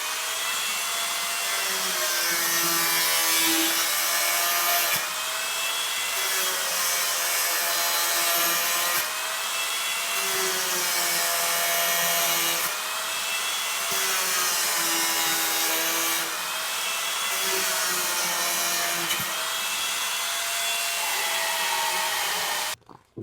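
A plastic closet pipe for a wall-hung Kohler toilet being cut, with a continuous loud rasping saw that runs in long, steady strokes with brief pauses between them, close up and alone.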